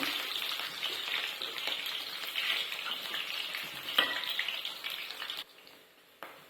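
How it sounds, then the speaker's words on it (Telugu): Onions with cinnamon, cloves and cardamom fry in hot oil in a pan for a village-style chicken curry, a steady close crackling sizzle that runs throughout and drops quieter near the end. "ఇగో దాల్చిన చెక్క లవంగ ఇలాచి మూడు వేస్తున్నా వేగినాయి కదా ఇప్పుడు ఉల్లిగడ్డలు అయితే వేసుకున్నాము"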